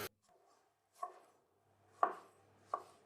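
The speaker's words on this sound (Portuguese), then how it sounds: "E agora é só cortar ao meio e depois fatiar em pedaços bem grossos." A knife cuts a pumpkin into thick pieces on a board: four separate firm thunks spaced about a second apart, close and clear against near silence.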